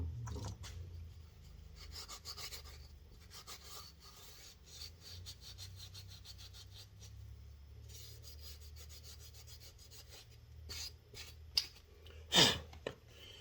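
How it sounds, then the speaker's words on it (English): Scraping of old residue off a 1957 Johnson FD-11 outboard part during an impeller install, with quiet repeated rasping strokes, close but faint, and a few sharper knocks near the end. "I'm just lightly scraping that off of there."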